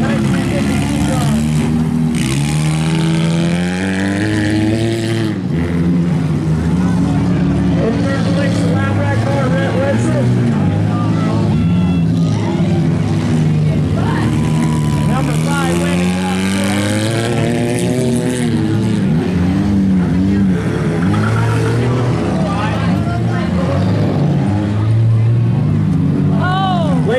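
Youth derby race cars circle an oval track with engines droning and revving continuously, pitch sweeping up and down as cars pass close by. An announcer talks over the engine noise throughout.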